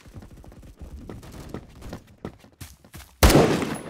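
Gunfire hits a building in Roblox Phantom Forces, scattered sharp shots and impacts popping at a moderate distance, ending in a loud, close blast with a rumbling tail.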